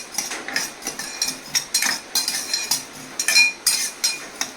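White sesame seeds and poppy seeds dry roasting in a pan give off rapid, crisp scraping and rattling bursts as a utensil stirs them, irregular strokes repeating close up without talk.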